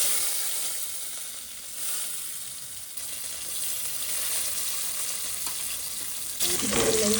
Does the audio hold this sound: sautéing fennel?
yes